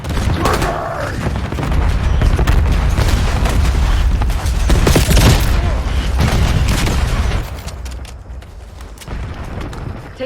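A grenade blast in Call of Duty Black Ops 6 on the Nuketown map booms loudly amid continuous surrounding gunfire, then the din thins toward the end.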